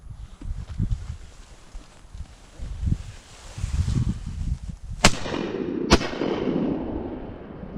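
Two loud shotgun blasts fired at geese during a spring hunt, a second apart near the end, each cracking sharply and ringing out after several seconds of rustling and handling noise outdoors.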